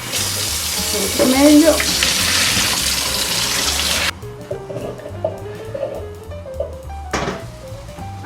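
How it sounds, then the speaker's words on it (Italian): Cold water pours from a kitchen tap over freshly drained pasta in a sink, a loud steady rush for about four seconds that then cuts off, leaving quieter clinks and a brief voice. "facciamo scendere un po' d'acqua fredda"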